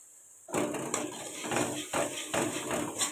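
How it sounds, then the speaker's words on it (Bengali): Bean seeds drop into hot oil in a pan, setting off a sudden loud sizzle that swells and pulses in rhythmic bursts of clattering and spattering, close and steady. "এবার আমি এই যে শিমের দানাগুলো এবার এর মধ্যে দিয়ে দেবো শিমের দানাগুলো এর মধ্যে দিয়ে দিচ্ছি"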